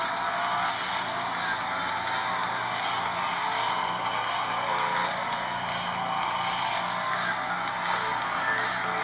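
A car racing video game played on Samsung Galaxy S II and Motorola Droid X2 smartphones, giving a continuous high engine whine with tire squeal and small bumps, loud and without talk.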